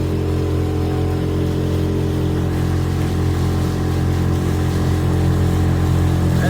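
Motorized kayak skiff converted from a Cres Craft runs at about 65% throttle, a loud, close, steady engine drone with a constant tonal hum and no talking.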